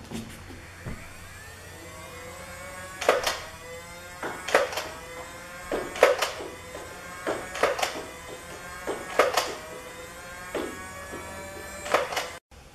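A Nerf N-Strike Elite Demolisher 2-in-1 motorized blaster whirs steadily while firing, with sharp shots repeating about every one and a half seconds over a constant motor hum, fairly close.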